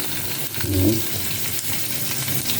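Small onions and radish sauté in oil for sambar, a close, even sizzle with soft scraping stirs.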